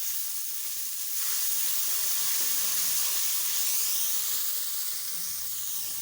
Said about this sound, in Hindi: अब हम थोड़ा पानी शामिल करेंगे इसमें ताकि प्याज जले ना।